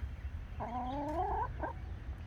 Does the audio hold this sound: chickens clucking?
yes